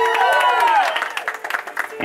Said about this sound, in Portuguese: Uma salva de palmas pra Isa,